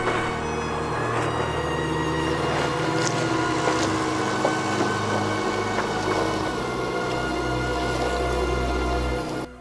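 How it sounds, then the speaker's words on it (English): A Subaru engine roars at full throttle as the car climbs a steep off-road hill, a loud, steady, strained drone that holds nearly constant from start to finish with no talking. "with one final push and the throttle to the floor, we climbed our way up and to the final stopping point"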